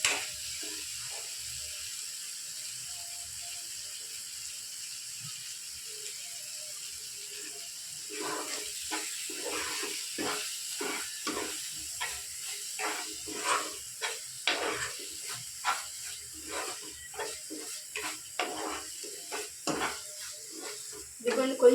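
Onion and egg curry masala frying in oil in a pan, giving a steady soft hiss with scattered crackles and pops that grow busier partway through, heard close up with no talk.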